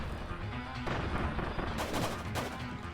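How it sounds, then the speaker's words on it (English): Cannons fire in Kirby's Return to Dreamland Deluxe, a dense run of bursts and booms packed close together over busy game sound. "I don't think they changed how fast the cannons shoot either"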